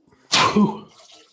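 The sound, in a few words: sneeze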